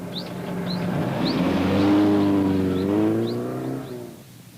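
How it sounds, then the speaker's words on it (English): A car pulls away in a radio drama sound effect, its engine rising and swelling loudly, then fading, with faint chirping sounds above. "Hop in the car. It's only a 10-minute drive."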